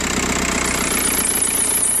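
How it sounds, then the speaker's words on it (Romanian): A car engine runs at idle with a steady, slightly knocking mechanical hum and vibration, close and continuous with no talking. "Dă o leacă drumul la motor."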